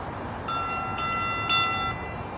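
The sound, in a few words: Phoenix Valley Metro light rail train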